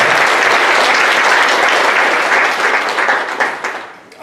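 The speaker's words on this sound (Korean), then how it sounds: "대회에서 한번 격려의 박수 한번 드립니다" A church congregation at a Sunday worship service breaks into loud, dense applause, a continuous wash of many hands clapping that stays strong and then thins and tapers in the last second.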